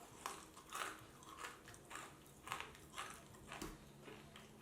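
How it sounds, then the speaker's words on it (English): Several crisp, dry crunches from chewing banana chips from a Croatian army combat ration, close and quiet, repeating irregularly over a few seconds. "You hear how crunchy it is."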